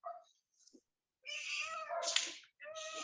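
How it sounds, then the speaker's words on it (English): A cat gives several distinct meows, short and then drawn out, close but fairly quiet, with brief silences between calls. "I love your cat. If that was a cat."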